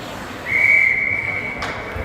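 Referee's whistle at an ice hockey game between the Knights and the Rangers, one long shrill blast lasting over a second, loud over arena noise and a commentator's voice.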